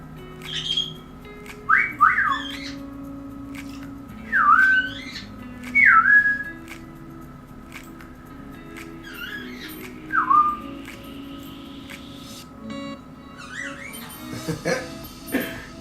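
Albie, a pet bird, gives several short, bright whistles in a scattered rhythm over about fifteen seconds, close and clear against a quiet room with faint background hum.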